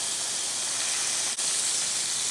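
Steak searing in a hot pan gives off a steady, loud broadband sizzle with no break, close up and alone with no talking.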